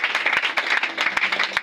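A church congregation claps together in a lively, rapid rhythm during a Sunday worship service, the dense applause steady and close for the whole short span.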